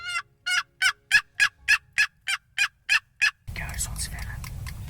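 Wild turkey during a turkey hunt, a rapid series of about ten sharp gobbling bursts close by, followed by a rougher, noisier stretch of sound with no talk.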